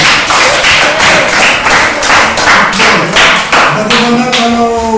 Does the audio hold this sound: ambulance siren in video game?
no